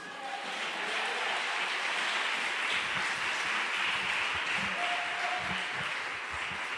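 Applause from a church congregation in Valledupar, Colombia, a continuous wash of clapping over a low rhythmic thumping, with a faint tone drifting through partway.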